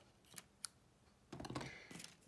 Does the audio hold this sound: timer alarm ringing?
no